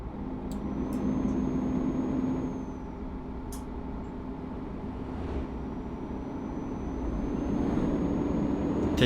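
A bus driven in the Euro Truck Simulator 2 video game hums along with a steady low engine and road rumble, moderately loud and unchanging, with faint short clicks and a high thin tone above.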